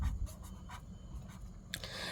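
Pen or pencil writing on paper, worked through a primary-school arithmetic problem, with soft faint scratching strokes in short bursts and a brief sharper stroke near the end, no talk over it.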